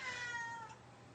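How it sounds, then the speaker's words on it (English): A house cat gives a single drawn-out meow that fades after about two-thirds of a second, heard close and alone in a quiet room. "Yes, I have a cat that loves to talk to me."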